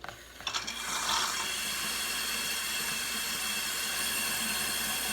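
A sink faucet is turned on in a pharmacy compounding setting, a few faint clicks followed by a steady rush of running water at moderate distance.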